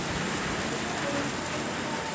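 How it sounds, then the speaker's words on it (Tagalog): Heavy rain pours down steadily during Typhoon Pepito, a dense, continuous hiss with no breaks and no voices. "Sa ngayon, ang ulan sa amin."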